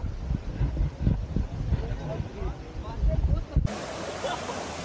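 Broad, steady rush of a waterfall pours continuously with a loud hiss, and a few voices are faintly mixed in.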